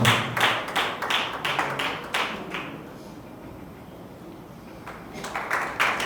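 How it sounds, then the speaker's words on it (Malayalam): An audience applauds an award winner at an anniversary celebration event, with rapid clapping bursts at the start, a quieter lull in the middle, then clapping picking up again near the end. "എയ്മിക്ക് നല്ലൊരു കൈയടി കൊടുക്കാം."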